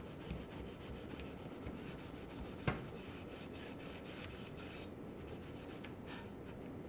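Cloth wiping excess wood stain off the surface of a wooden footstool, a steady soft rubbing scrape that continues throughout at close range, with one brief sharp tap partway through.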